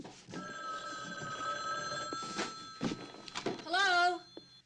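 A telephone bell rings with steady sustained tones in an indoor room, accompanied by door thuds and movement, then a warbling ring near the end as someone speaks.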